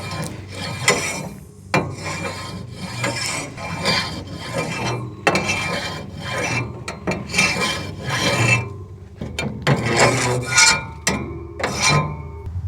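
A Hasty Bake grate scraper rasps back and forth across the grates of a Hasty Bake Legacy charcoal grill in loud, close, rhythmic strokes with brief pauses between passes.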